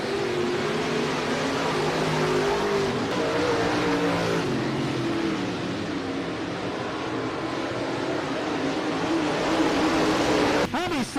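Dirt track race cars at a county fair roar around the track as the green flag drops, engines droning and revving continuously with a loud pass near the end, under a crowd and announcer's voice.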